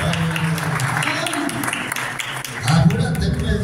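Audience in Arequipa applauding a poet, a dense patter of clapping that runs steadily and swells near the end, with voices mixed in.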